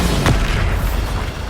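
A Bombarda spell detonates in Hogwarts Legacy, a single heavy boom that swells fast and rumbles out, loud and deep, filling the whole moment with no voices.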